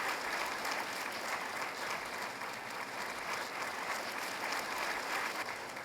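A church congregation applauding during a Sunday homily, sustained, even clapping from many hands at moderate volume, filling the hall without talk over it.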